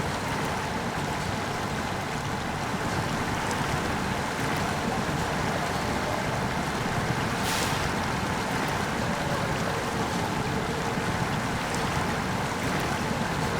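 A truck in the video game SnowRunner churning through a river, with a continuous rush of water and a low engine drone, steady and loud for the whole stretch.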